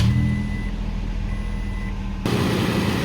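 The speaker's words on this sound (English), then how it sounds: "Go ahead and start the car." A car engine cranks and catches, then idles steadily with a low rumble, alone with no talking, while a battery charger is connected to the car.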